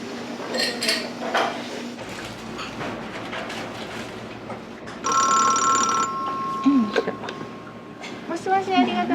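A telephone rings in a busy udon shop, with an electronic trill cutting in partway through over clattering dishes, cutlery and kitchen bustle, while people talk nearby.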